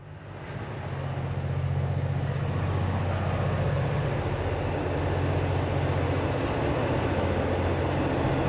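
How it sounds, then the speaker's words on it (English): A train rumbles past a free campsite at the Barwon Reserve in Winchelsea, its deep, steady roar building over the first second and then holding loud and continuous throughout. "I can hear a train coming."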